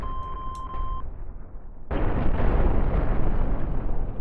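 In the space game Cosmoteer a mine detonates against a ship: a short electronic beep tone gives way to a sudden loud blast, followed by a sustained rumbling roar of explosions and debris.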